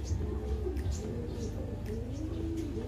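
Pigeons coo in soft, repeated rolling calls while circling nearby in a loft area after volcanic ashfall, with faint chirps and light background noise.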